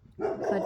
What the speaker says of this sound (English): Sorry for that dog.